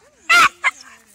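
A dog gives a short, sharp bark followed by a smaller yip during an MH temperament assessment, both close and clear against an otherwise quiet background.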